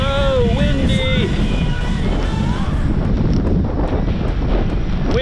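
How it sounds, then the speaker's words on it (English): Strong wind buffets the microphone during a 100-mile single-speed gravel bike relay race, a loud continuous roar with a brief voice early on. "So windy."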